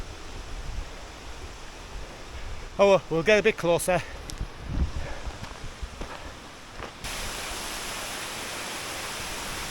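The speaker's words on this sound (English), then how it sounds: "Well, I think this is the waterfall here." Whorneyside Force waterfall gives a steady, rushing hiss that is faint under a man's speech and footsteps at first, then swells into a louder, constant roar as he draws nearer.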